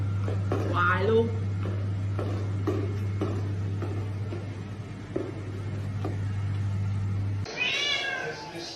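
A house cat meows in a short rising call near the start, then again more sharply at the end, over a steady low hum and background noise with people talking.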